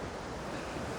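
The flooded Susquehanna River rushes over a waterfall in a continuous, dense roar of churning water, loud and steady throughout with no break or voices.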